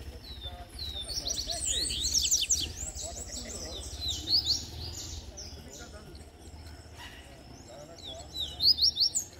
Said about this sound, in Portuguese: os passarinhos estão bem, estão cantando na palha do Dendê